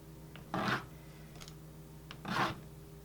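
An angled brush scrapes wet watercolor paint off paper in two short, soft rasping strokes, quiet and close with a pause between them.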